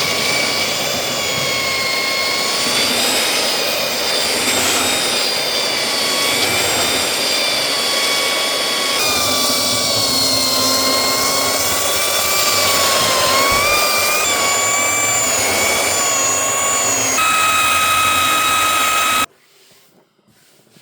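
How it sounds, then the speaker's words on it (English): An old antique Craftsman belt sander runs steadily and loudly with a high whining hiss and shifting tones for about nineteen seconds, then cuts off abruptly, leaving near silence. "This is an old Craftsman belt sander."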